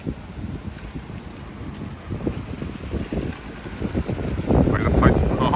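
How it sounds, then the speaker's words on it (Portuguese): Strong cyclone winds gust across a beach at Balneário Camboriú, Brazil, buffeting the microphone in loud, rising blasts, with faint talk mixed in. "Nossa, galera, olha esse vento."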